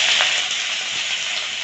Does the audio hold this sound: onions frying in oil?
yes